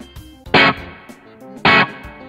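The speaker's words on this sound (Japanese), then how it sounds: "スプリングリバーブをかけてます、僕は。" Two bright electric guitar strums, played through a compressor into the amp, ring out with a light, wet spring reverb tail, separated by a short pause and trailing off into quieter string noise.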